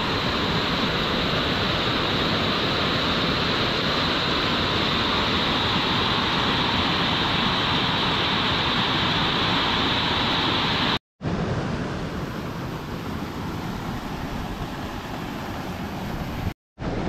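Loud, steady roar of rushing floodwater swollen by heavy monsoon rain in rural Konkan, a dense continuous wash that cuts out briefly twice near the end.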